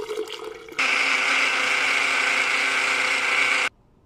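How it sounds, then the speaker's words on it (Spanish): A blender purees a boiled homemade deworming remedy, starting abruptly into a loud, steady whirring drone that runs about three seconds before cutting off sharply. "tengo el vaso de la licuadora donde vamos a echar nuestro remedio para licuarlo"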